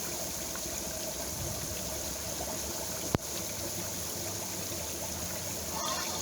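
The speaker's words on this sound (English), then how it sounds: "The water is coming up out of the ground carbonated." Naturally carbonated spring water bubbles up out of the ground at Soda Springs, Idaho, a steady close fizzing and trickling wash with one sharp click partway through.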